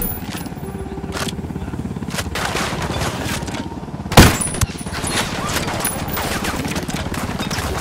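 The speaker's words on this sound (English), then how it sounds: "Shots fired." Gunfire in Ghost Recon Wildlands during a firefight with cartel troops, steady rattling machine-gun bursts with one loud close blast midway, under game voices and background noise.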